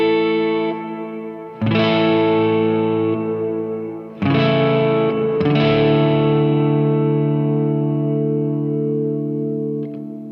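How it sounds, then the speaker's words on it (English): Electric guitar played through a Strymon Flint reverb pedal, three sustained chords struck about two seconds apart, each ringing out with a long, lush reverb tail that fades slowly, no voices. "here's my main reverb, which is the Strymon Flint"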